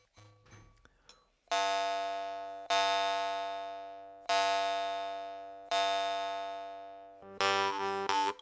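Iverson mouth harp (munnharpe) in G, played in five separate sustained twangs, each a bright buzzy ringing tone that starts sharply and slowly fades, heard up close and alone after some faint handling noise.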